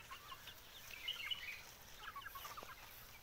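Free-range desi chickens cluck and chirp softly on a small poultry farm in the early morning, scattered short calls over faint outdoor background noise, fairly distant and quiet.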